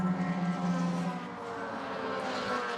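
Race cars at Lime Rock Park in a touring cup race, a Lexus among them, charge into turn one with a loud, steady engine roar carrying across the track, the pitch shifting slightly as they sweep through the corner.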